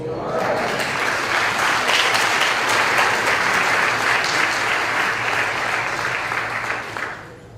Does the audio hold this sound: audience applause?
yes